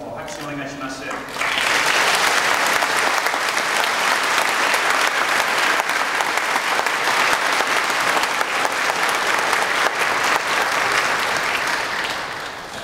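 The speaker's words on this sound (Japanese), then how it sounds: "拍手をお願いします。" Wedding guests break into steady, loud applause right after the couple is pronounced husband and wife, a brief spoken line at the start before clapping fills the room for over ten seconds.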